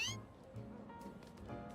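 Meowth, the Scratch Cat Pokémon, gives a short cartoonish meow cry in the video game Pokémon Legends Z-A, a brief bright call followed by faint game sounds and quiet chatter.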